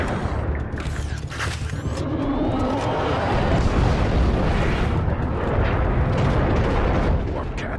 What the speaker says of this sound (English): Warp cannons.